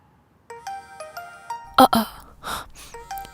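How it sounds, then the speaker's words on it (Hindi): A phone rings with a repeating electronic melody, tones recurring in short bursts, interrupted midway by breathy sounds and a brief gasp. "ये तो किसी लैंडलाइन नंबर से कॉल आ रही है।"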